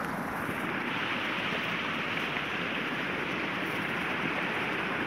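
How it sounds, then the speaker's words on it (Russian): Small waterfall on a mountain river in the upper reaches of the Berezovka near Kislovodsk, a steady, broadband rushing of falling water that stays loud and even throughout with no pauses. "Вот еще один мини-водопадик."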